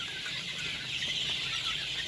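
A flock of about 2,250 chickens in a poultry shed clucks and chatters constantly in the background, a dense steady murmur of many birds at once.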